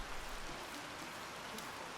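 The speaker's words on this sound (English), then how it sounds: "Oh, it's raining!" Rain falling in the Pompeii: The Legacy video game, a dense, steady hiss of drops that fills the scene evenly and continuously with no voices over it.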